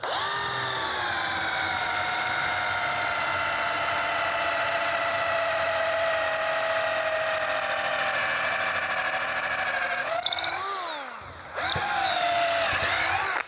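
A Tekiro CD-HD2047 12V cordless hammer drill drilling into hard red meranti wood whines steadily at a high, constant pitch, then briefly cuts out and spins back up near the end, loud and close.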